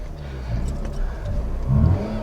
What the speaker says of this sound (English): All right, so we're gonna keep the revs up.